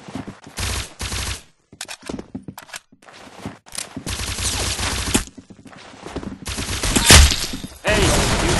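Video game gunfire rings out in rapid bursts and volleys, loud and close, broken by short pauses, with a brief voice heard once.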